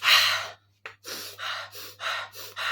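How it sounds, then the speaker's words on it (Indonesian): A person draws a deep breath in: one loud, close, rushing inhale, then several shorter breathy puffs in an uneven rhythm, with no talking. "tarik napas gitu"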